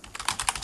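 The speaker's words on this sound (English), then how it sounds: "My typing today is pretty bad." Quick run of keystrokes on a computer keyboard while entering a command in Kali Linux, about five crisp, close taps in an uneven rhythm.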